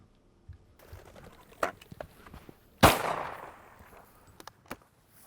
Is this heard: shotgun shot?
yes